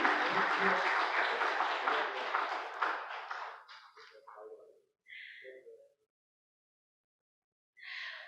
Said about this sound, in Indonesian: Boleh tepuk tangan yang paling meriah hadirin sekalian.